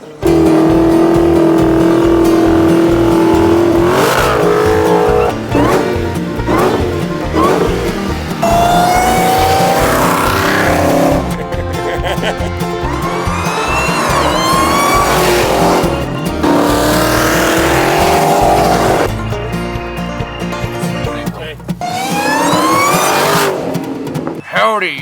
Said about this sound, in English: you do a burnout the moment you step foot outside the showroom door